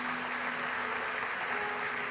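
Church congregation applauding together during a worship service, a steady dense wash of clapping that holds at one level for the whole stretch, with faint voices underneath.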